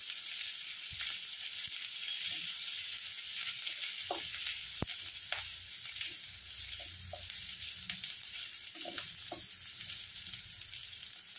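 Garlic, ginger and green chilli masala frying in a pan, a steady close hiss of sizzling oil throughout with occasional soft stirring clicks and scrapes, no talking.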